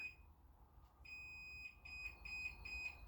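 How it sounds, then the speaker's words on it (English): A smoke alarm with a low battery chirps in short, repeated high beeps at an irregular pace, faint and somewhat distant indoors, with no talking over it. "there's the alarm."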